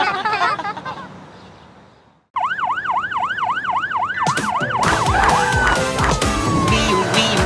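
A wailing ambulance siren in a children's nursery song sweeps up and down repeatedly, loud and close, then breaks into a jumble of clattering, crashing noise.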